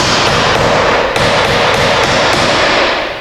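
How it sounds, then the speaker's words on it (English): A hammer drives a roofing nail into a tin accent panel on a pole barn wall, striking in a quick, even run of loud, close metallic blows. "I'm just going to sink a roofing nail."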